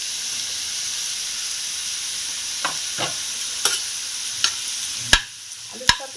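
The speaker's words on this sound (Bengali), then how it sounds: "আলুর সাথে বাদামটা ভালো করে ভেজে নিতে হবে" Potatoes frying in a pan with ground peanut paste, a steady close hiss of sizzling oil broken by several sharp scraping clacks from a stirring utensil against the pan.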